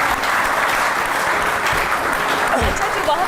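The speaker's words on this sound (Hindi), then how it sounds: "जोरदार ताली बता दो पवन जी के लिए भी" Sustained, dense applause from an audience at a yoga and bodybuilding demonstration with a yoga guru, given for a man performing shand dand push-ups, with a voice talking over it.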